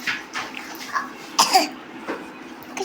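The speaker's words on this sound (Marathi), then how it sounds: "बघ खोकला." A sick young boy with an upset stomach coughs several times, short rough bursts close by, with a brief throat-clearing sound and a quiet room between them.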